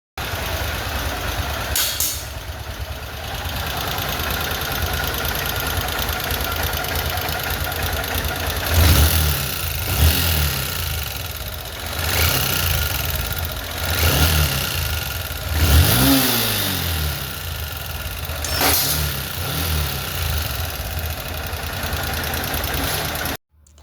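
A Honda X-Blade motorcycle engine with worn rings and piston runs with a rough, knocking mechanical noise, idling steadily with several short rev bursts near the middle, close and loud throughout.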